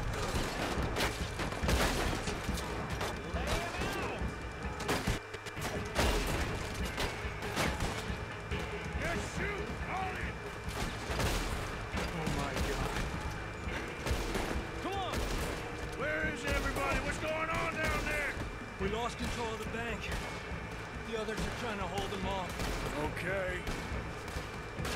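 Gunfire rings out in the Western open-world game Red Dead Redemption 2, a steady barrage of shots and crashes mixed with game ambience and a voice talking over it throughout.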